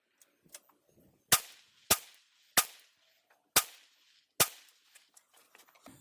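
Five sharp .22LR pistol shots from a Ruger 22 Charger firing CCI standard ammunition crack out at irregular intervals of about a second, each loud and close with a short decay, and a few faint clicks fall between them.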